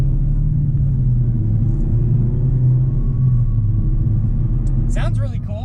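2019 Mazda MX-5 Miata ND with its 155-horsepower engine pulls on an interstate, a steady low rumble of engine and road noise running close and loud throughout, with a brief voice near the end.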